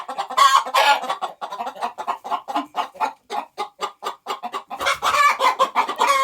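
Chickens cluck close by in a steady, busy chorus of short calls, with a few louder squawks near the start and end.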